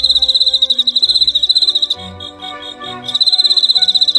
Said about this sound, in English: crickets rub their wings to create a rhythmic call.